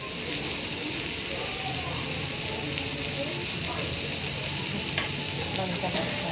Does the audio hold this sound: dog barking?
no